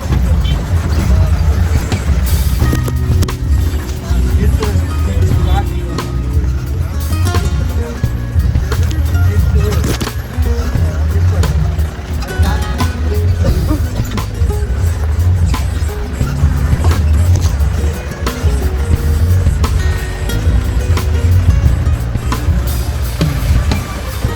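A jeep lurches down a rough off-road track toward Kolukkumalai, its engine droning continuously with rattles, thumps and jolts from the rugged surface throughout.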